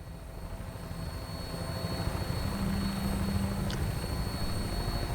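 Aircraft engine drone during a flight on approach to an airport in the video game Fallout 4, a steady low rumble with a sustained tone that swells slightly midway, with no talking.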